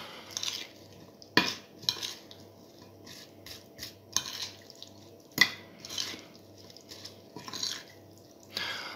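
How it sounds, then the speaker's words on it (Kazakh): Shashlik marinade with sliced onion rings being stirred, giving soft wet squelches and light clinks of a utensil against the bowl in irregular bursts, close up, with no talking. "Енді мариновкамызды араластырамыз дұрыстап тұрып."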